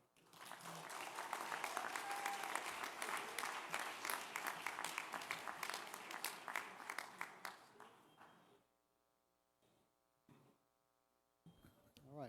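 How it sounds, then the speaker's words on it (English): Sustained audience applause at a disability summit honoring agency heads, dense steady clapping for about eight seconds before fading out, then a quiet hum with a brief burst of noise near the end. "Let's give them another round of applause and appreciation."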